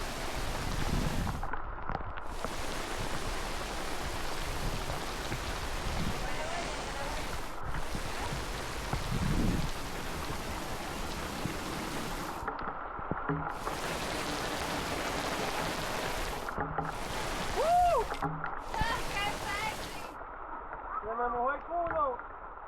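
Rain pours during a storm at a forest campsite in Ocala National Forest, a steady close patter broken by a few brief gaps, with people talking over it.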